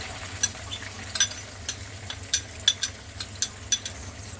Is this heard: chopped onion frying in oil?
yes